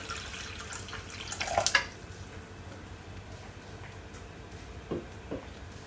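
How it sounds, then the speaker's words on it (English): Water poured into a kitchen bowl, a brief splashing pour followed by a few faint drips and clinks in a quiet room. "to my bowl, I'm gonna add at least 1 cup to half of cup of water"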